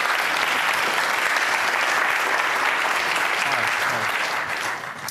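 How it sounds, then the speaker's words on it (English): Sustained audience applause welcoming Mark Davies of Solar Legacy onto the stage at a startup event, a thick, steady wash of clapping that eases slightly near the end. "Give it a round of applause."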